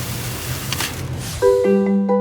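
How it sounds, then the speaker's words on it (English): Whole grain wheat pours steadily into a container with a soft, rain-like rushing hiss, then gives way to sustained ringing tones. "Doesn't the grain make a lovely sound?"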